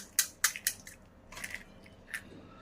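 Pani puri being eaten, puri shells filled with ragda, spicy and sweet water, sev and boondi: three sharp close crunching bites in quick succession, then softer wet squishy chewing.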